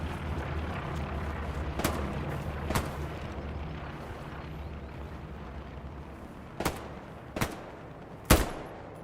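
Sharp cracks of automatic rifle gunfire ring out in a large-scale online military shooter match, sparse single reports spaced a second or more apart over a low ambient rumble, with no talking.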